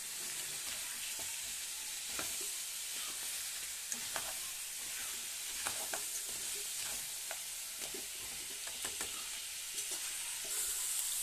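Curry pieces stirred and fried in masala for pitalu curry, a steady close sizzle with scraping and stirring knocks throughout, no voices.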